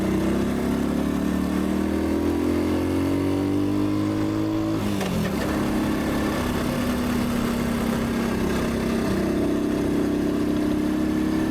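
A Honda Cub 90 motorcycle underway on a sunny day, its small single-cylinder engine droning steadily and loudly up close, pitch rising as it accelerates, briefly dipping around a gear change, then settling into a steady cruise.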